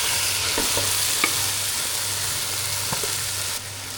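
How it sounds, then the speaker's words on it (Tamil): Steady sizzling as tomatoes and masala sauté in a pan with occasional scrapes and stirs of a utensil, continuous and close, with no voices. "எல்லாமே நல்லா வதங்கிடுச்சு"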